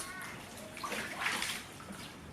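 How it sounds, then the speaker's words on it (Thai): Water running and splashing steadily as a body scrub is rinsed off skin, a soft continuous wash with a brief louder surge partway through, heard alone without talk. "ล้างออกครับ"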